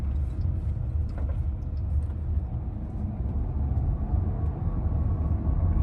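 Inside a Waymo robotaxi under full-throttle acceleration, a steady low cabin rumble of road and motor noise swells gradually toward the end.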